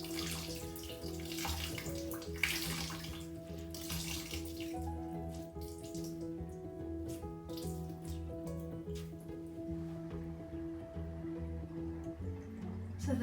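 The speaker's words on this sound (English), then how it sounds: "The water is running completely clear." Tap water runs in a steady, continuous stream over naturally oak-dyed yarn being rinsed in a sink, a close, even splashing with small drips and shifts as the wet yarn is handled.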